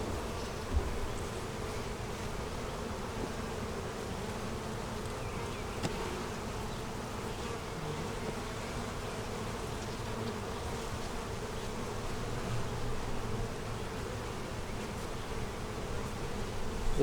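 Honeybees buzz steadily around an open double deep 8-frame hive during an inspection, a dense, continuous droning hum from many insects close by, even in level throughout with no talk.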